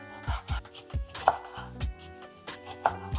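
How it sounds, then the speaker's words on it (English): A knife slices through oranges on a cutting board, a close, distinct series of about a dozen sharp chops in an uneven rhythm with no talking. "we are going to slice up some oranges"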